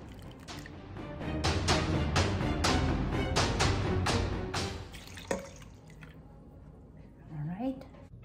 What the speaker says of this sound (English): I'll soak with 3 cups of warm water.